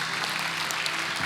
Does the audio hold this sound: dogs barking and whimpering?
no